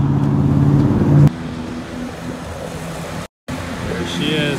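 Engine of a new Can-Am Maverick X3 side-by-side idles and pulls forward loudly up ramps onto a trailer, a steady close motor rumble that eases slightly after the first second, with a brief dropout and people talking over it.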